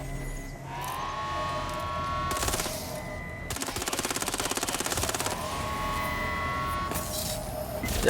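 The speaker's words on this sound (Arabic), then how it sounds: "تعرف شو هذا اللي عم يقوسني عم يفجرني تفجير" Rapid machine-gun bursts and repeated gunshots fire at the player in Watch Dogs Legion, loud and close, with a sustained rattling volley in the middle and tonal electronic game sounds layered underneath.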